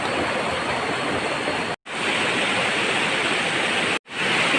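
A river at Leuwi Ceupet rushes past nearby with a loud, constant broadband roar, broken by two brief dropouts.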